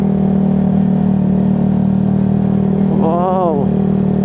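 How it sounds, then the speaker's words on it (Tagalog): A motorcycle engine hums steadily and loudly throughout a solo ride on a quiet scenic road, a constant low drone with a brief whining pitch wobble near the end. "Yung motor ko lang ang maingay."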